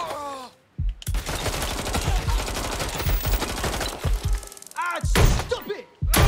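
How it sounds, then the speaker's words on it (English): Gunfire in the video game Watch Dogs Legion crackles in a dense, loud burst of rapid shots and thuds, broken by brief pauses and mixed with game voices and effects. "I do not seem to know how to use that gun."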